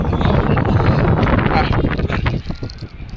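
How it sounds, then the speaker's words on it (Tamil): Strong wind sweeps across the mountainside at Namakkal fort, roaring loudly and constantly against the microphone in heavy buffeting gusts that ease slightly toward the end. "அந்த அளவுக்கு காற்று பலமாக இருக்குது."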